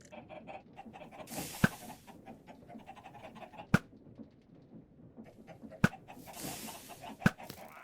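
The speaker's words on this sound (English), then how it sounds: "I thought the fucking chickens outside my house were the thing." Chickens outside a house in Minecraft cluck softly in quick repeated bursts, joined by a few sharp, loud clicks spaced a couple of seconds apart.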